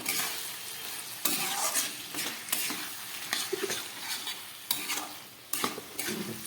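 Chicken cooked down with spices fries in a pan and is stirred, giving a soft, continuous sizzle with repeated scraping strokes and occasional sharp clanks of the spatula.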